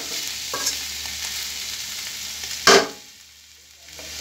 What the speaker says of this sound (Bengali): বারে বারে একটু নাড়াচাড়া করে দিতে হবে যেন তলাতে না লেগে যায়।